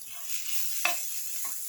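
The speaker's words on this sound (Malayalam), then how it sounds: "തേങ്ങ ഫ്രൈ പാനിലിട്ട് വറുത്തെടുക്കാം." Grated coconut roasts in a frying pan with a steady soft sizzle and a gentle scraping stir, including one sharper scrape of the utensil against the pan, close and even, with no voices.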